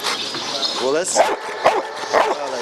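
A border guard detection dog barks and yips in a few sharp bursts close by, mixed with short whimpers, while a person's voice talks over it.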